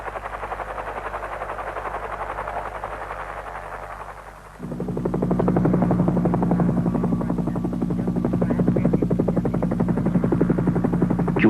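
A helicopter supporting tunnel construction near Timika, Papua, thumps steadily in rapid rhythm, growing louder and closer partway through and then holding a strong, continuous beat.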